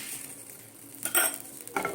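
Oil added to a hot pan for a sandwich, a soft continuous hiss that swells into two short brighter sizzling bursts near the end, with faint pan clinks.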